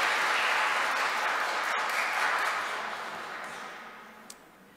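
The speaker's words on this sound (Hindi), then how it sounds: "जोरदार तालियों में हम उनका शुक्रिया" Loud applause from the congregation at an Easter Sunday gathering in an Urdu-speaking church in Antwerp, a dense sustained clatter of many hands that gradually thins and fades over several seconds.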